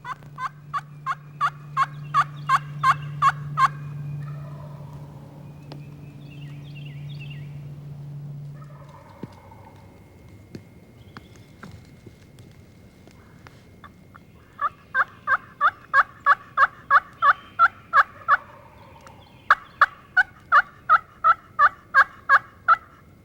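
Bursts of rapid, rattling wild turkey gobbles ring out repeatedly in spring, loud and close, separated by quieter stretches with a low hum and faint calls.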